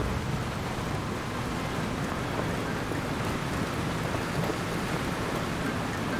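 Steady heavy rain pours down during a storm in the video game Far Cry 2. It is a dense, unbroken hiss of falling water throughout, with no distinct thunderclap and no voices.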